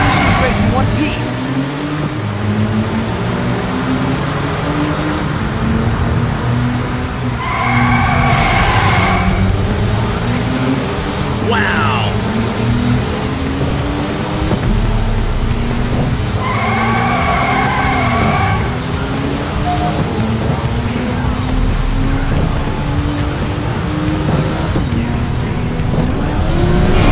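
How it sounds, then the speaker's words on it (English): Race cars speed past the starting line in a PS2 racing game, with a loud, continuous engine roar and rising and falling whines. Brief screeching tire squeals cut in over the din while a voice talks throughout. "The cars are streaming past the starting line"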